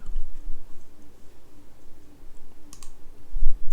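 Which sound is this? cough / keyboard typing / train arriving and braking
keyboard typing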